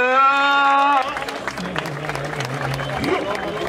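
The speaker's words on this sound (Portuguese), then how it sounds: "Palmas pra batalha!" A crowd at a rap battle breaks into applause and cheering after a sung or chanted tone ends, with clapping and noise filling the space while a voice talks over it.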